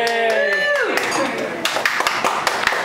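A group cheering and clapping in a festive crowd, bright sustained cheers at the start giving way to scattered claps and whoops under overlapping chatter.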